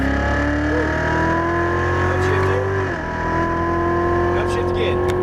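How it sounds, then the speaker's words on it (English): A Chevrolet Corvette Z06 engine pulls hard on a race track, a loud, steady climbing roar with a brief dip near the middle as the note shifts, then rising again. "Now as you unwind the wheel, you can squeeze down the throttle, and you can go as fast as you want down the straight."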